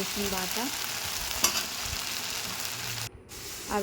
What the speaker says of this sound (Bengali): রসুন বাটাটা ভালো করে ভাজা হয়ে গেছে